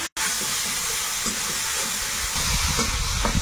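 Spices with green chilli and a splash of water sizzle loudly and hiss in a pan while being stirred, a dense, continuous frying roar that fills the whole stretch after a brief opening gap.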